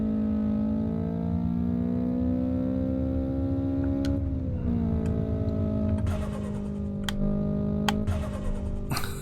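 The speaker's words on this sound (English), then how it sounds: "I just love the turbo, man." A turbocharged car engine in the racing video game Apex Point, a loud steady droning rev that climbs and dips with gear shifts, with sharp turbo blow-off chirps and clicks near the end, no talk.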